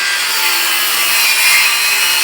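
A saw cuts a notch into a 2x4 rafter during rough bathroom framing, a loud, continuous, close rasping of blade through wood with no pauses.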